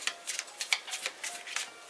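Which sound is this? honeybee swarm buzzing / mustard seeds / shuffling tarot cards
shuffling tarot cards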